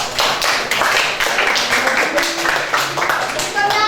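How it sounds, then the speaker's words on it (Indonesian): Students in a classroom clapping their hands in a steady, sustained burst of applause for a group, with irregular taps layered over it, close and moderately loud. "tepuk tangan untuk kelompok."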